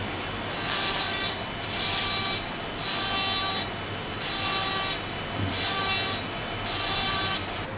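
A dental round burr drills the central pit of a molar in a series of six evenly spaced, high-pitched grinding bursts, each about a second long with short pauses between.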